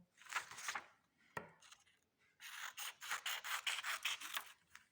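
Close, quiet scissors cut thin strips of paper for an appliqué craft: a rasp, a pause, then a quick run of crisp, rhythmic snips.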